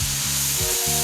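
Collard greens sizzle steadily in a hot skillet as they cook down, a dense continuous frying hiss with no voices over it.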